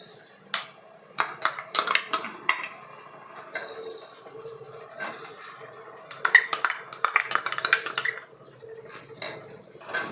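Gongura paste, fried in oil with green chillies and cumin, is tipped into a pan and stirred, giving scattered metallic scrapes and clinks of a spoon against the pan with soft wet sounds in a quiet kitchen.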